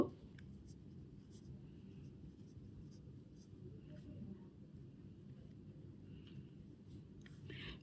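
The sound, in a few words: writing numbers by hand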